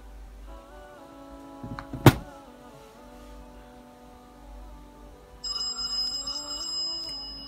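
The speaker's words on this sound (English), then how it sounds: "there we go, there's a phone call. That's on the regular phone." An ordinary landline telephone rings with an incoming call, a sharp click followed by steady electronic ringing tones that grow louder partway through, close by and with no one talking.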